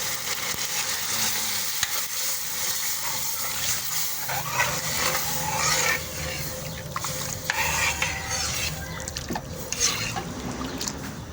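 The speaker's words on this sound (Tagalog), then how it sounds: "Pwede na natin ilagay ang ating pangsabaw. Ang ating shrimp stock." Shrimp stock is poured into a sautéed palabok base in a hot pan, giving a steady, loud close sizzle and bubbling with stirring scrapes and liquid splashes throughout, with no talking.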